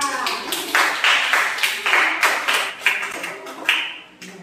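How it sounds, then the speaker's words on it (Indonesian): A class of sixth-grade students claps for a student group in a primary school classroom, a run of sharp, fairly close claps in an uneven rhythm, with no talk over it. "Beri tepuk tangan untuk kelompoknya Mbak Insa."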